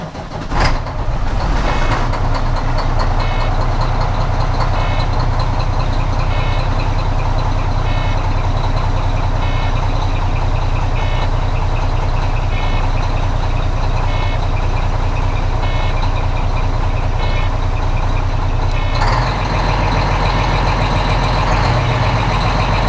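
A truck with an air leak and a bad AC compressor starts up, then idles with a loud, steady engine rumble and an ongoing hiss of air, with a beeping tone mixed in throughout.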